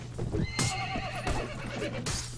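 Horses in the Mount & Blade Warband game, with several loud close whinnies and neighs over a low rumble of hooves during a battle, all in quick succession.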